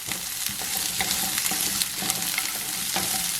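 Onion and capsicum frying in a pan, a steady bright sizzle with scattered crackles and occasional scrapes of stirring, close and alone without talk.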